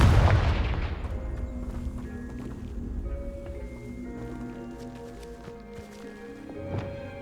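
A Confringo blast spell goes off in Hogwarts Legacy, a loud booming explosion that rolls and decays over a couple of seconds, followed by sparse game clatter, faint tonal effects and a brief thump near the end.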